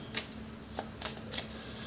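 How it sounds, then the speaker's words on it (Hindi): Tarot cards being shuffled, a few quiet riffling bursts spaced across two seconds against a faint steady hum, heard alone. "let me pull some more cards for you from tarot"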